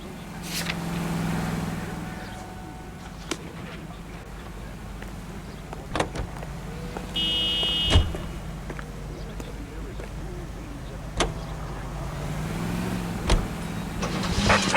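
A car being driven in L.A. Noire, with a low engine hum under scattered thumps, a few sharp clicks and short chimes, while people talk over it.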